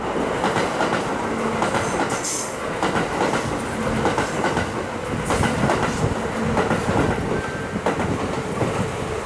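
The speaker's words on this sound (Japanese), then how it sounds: "準急までしか停車しないので、通過電車は結構多いですね。" A Kintetsu train rumbles through a mountain-area station in Nara Prefecture without stopping, in snowfall, with steady clickety-clack of wheels over rail joints, loud and close, a brief high squeal partway through, no voices.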